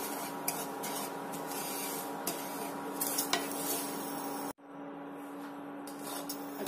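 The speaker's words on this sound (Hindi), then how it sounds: "अब इसी घी में थोड़ा सा हम सूजी को ब्राउन कलर होने तक अच्छी तरह से रोस्ट करेंगे।" Semolina roasts in ghee in a pan while being stirred, a continuous soft sizzle with scraping and light clinks of the spoon against the pan, briefly cutting out before resuming.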